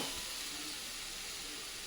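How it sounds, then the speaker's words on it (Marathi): Spice masala roasts in a pan for soya pulao, a steady close sizzle and hiss that runs unbroken for about two seconds, with no talking. "आपला मसाला पण थोडा भाजून झाला आहे"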